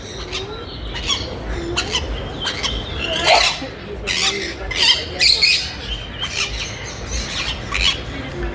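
Parrots squawk repeatedly in the Parque Lincoln aviary in Polanco, harsh calls overlapping at varying distances, some loud and close, over a murmur of background noise.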